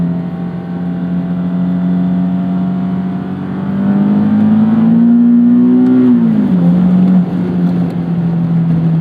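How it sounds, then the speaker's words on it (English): A 2012 Nissan 370Z or 2013 Scion FR-S sports car engine revs hard and loud from inside, climbing in pitch, then dropping sharply at an upshift before pulling again. "Whenever I upshift and I'm pushing it, I do get a bit of oversteer."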